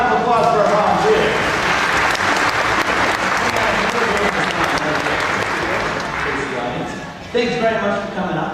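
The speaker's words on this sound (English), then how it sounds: "let's have a nice round of applause for our volunteers." A large crowd applauds steadily and loudly for several seconds at a Honda Asimo presentation, the clapping thinning slightly near the end as a voice begins to speak over it.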